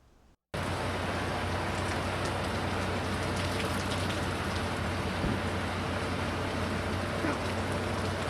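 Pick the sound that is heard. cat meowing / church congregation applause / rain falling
rain falling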